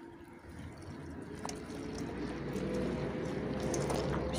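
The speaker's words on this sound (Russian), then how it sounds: "И вот так выливаю." Water pours steadily from a bucket through a sieve, a continuous close splashing rush that grows slightly louder as it goes.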